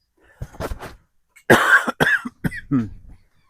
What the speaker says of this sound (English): I'm still coughing, getting over this cold that we had.